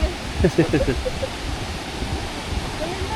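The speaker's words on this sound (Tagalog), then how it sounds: "naririnig ko na yung tubig" Steady rushing water flows throughout, a broad continuous wash, with a voice speaking briefly near the start, outdoors near Sudbury, Canada.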